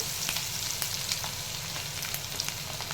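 Mustard seeds and cumin frying in hot oil for a chicken pickle: a dense, continuous crackling sizzle fills the short stretch at steady loudness, with faint scattered pops and no talking.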